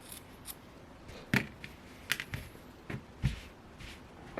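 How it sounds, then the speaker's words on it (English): Scissors snip through yarn at a crochet project, a few short, quiet crisp cuts scattered over a few seconds with soft handling noise between them, no talking. "So now we go ahead and cut it off."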